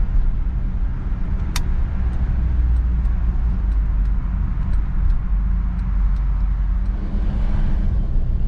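A 1959 Chevrolet Bel Air drives along, its engine a steady, loud, continuous rumble with road and wind noise throughout, heard from inside the car with no talking.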